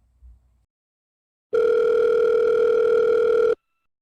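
A phone call to the Seoul National University admissions office begins with a single steady telephone ringback tone lasting about two seconds, loud and clean, after a faint brief thump and silence.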